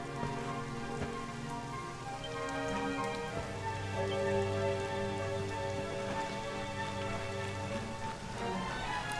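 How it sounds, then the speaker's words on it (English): Rain falls steadily in the video game Dragon Quest XI, a constant patter of drops mixed with sustained in-game music, with no talk. "It would have to go and start raining, wouldn't it?"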